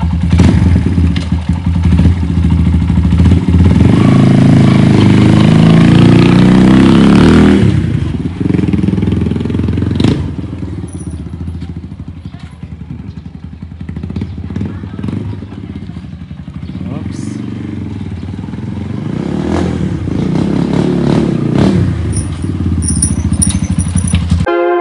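A MOJO 200cc motorcycle roars loudly and close, with heavy engine noise at first, then a steady running drone while riding, with voices talking over it.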